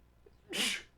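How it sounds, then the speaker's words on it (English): A single sharp sneeze from a person bursts out close to the microphone, brief and fairly loud after a quiet moment. "I'm gonna sneeze."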